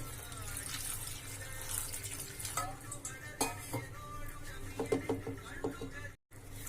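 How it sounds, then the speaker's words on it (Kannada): Water splashes and runs into a pot of soaked kuchugalu rice on a home stove, with stirring clatter and intermittent bursts of pouring and mixing sounds. "ಈಗ ಇದಕ್ಕೇನದ ನೀರು ಹಾಕ್ಕೊಂಡು ಮುಳುಗುವಷ್ಟು"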